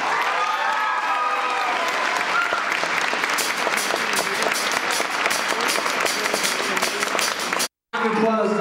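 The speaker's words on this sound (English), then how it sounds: "Round of applause to Drew and Benji." An audience at a 2009 Christmas concert opening act applauds: dense, loud clapping builds and sustains for several seconds, breaks off abruptly, then a brief sound follows.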